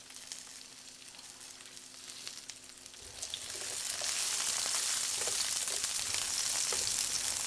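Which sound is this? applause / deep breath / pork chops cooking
pork chops cooking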